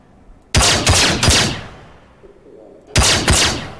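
Gunfire in the video game Star Citizen comes as two loud, close bursts of sharp shots, three quick reports followed by a lull and then two more, each with a short ringing decay.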